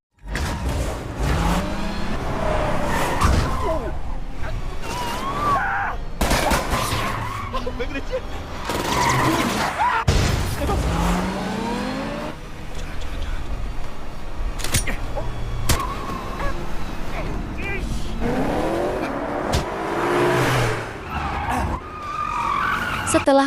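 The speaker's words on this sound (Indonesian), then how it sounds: "Madoksu pun harus tabrakan dengan mobil yang terparkir." In a film chase scene, cars skid and screech with repeated whooshes and tire squeals, then crash into a parked car with sharp impacts. The action is loud and busy, and a voice talks over it.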